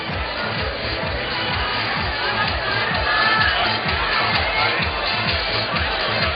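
Home crowd cheering steadily through the whole stretch at a women's bouldering World Cup qualification round in Log Dragomer, Slovenia, a broad, continuous roar of spectators with a faint rhythmic thump beneath it.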